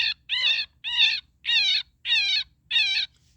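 Electronic predator caller playing a slow, methodical cottontail rabbit distress sequence: six evenly spaced, wavering squealing cries, each about half a second long, loud and close, with a faint low hum underneath.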